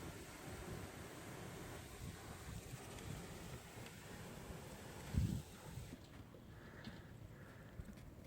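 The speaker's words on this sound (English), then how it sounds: "It's so windy." Snow blizzard wind gusts outdoors, a steady rushing roar with microphone buffeting and one brief louder thump partway through.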